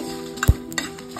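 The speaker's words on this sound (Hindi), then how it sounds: "खड़े मसाले को भून लेंगे" Whole spices for a spicy mutton curry are roasted in a pan: close scraping stirs and a few light clinks, with one dull thump midway over a soft, faint sizzle.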